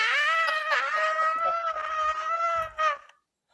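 A person lets out a long, high-pitched imitation of a little girl's scream, sustained and loud for about three seconds before cutting off into silence.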